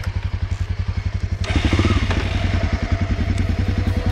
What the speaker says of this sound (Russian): Слышите, как мотор работает? Просто как часики.